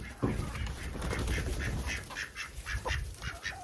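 Chickens inside a warm chicken barn give a busy chorus of clucks and squawks, fairly close and continuous over a rustling background.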